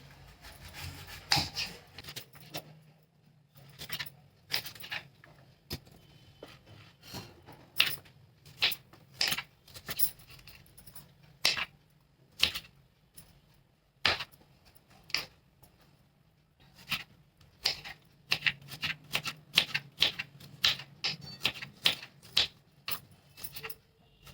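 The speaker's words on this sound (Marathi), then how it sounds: "आता हे कट करून घेते सर्व असं" A knife slices raw green mangoes lengthwise on a board while making a spiced dried mango preserve. Irregular sharp, close cutting clicks and taps repeat in clusters over a quiet background, with no talking.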